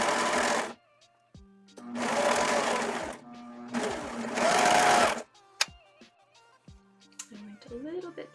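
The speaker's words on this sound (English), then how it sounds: "we're gonna sew along from here to our marking, and we are going to stop at the marking." A sewing machine stitches fabric up to a marked point in three loud, sustained bursts separated by pauses, close by, with someone talking and background music between runs.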